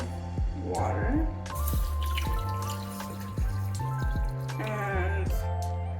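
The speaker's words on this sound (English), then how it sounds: "Now we are adding a cup of water." Water poured from a cup into a flaxseed mixture for a hair gel, a near, steady trickle with dripping and splashing that runs under continuous talk.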